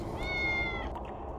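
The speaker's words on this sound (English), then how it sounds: "Meow." A cat in the video game Tales of the Neon Sea gives a single clear, drawn-out meow, close and alone over a low background hum.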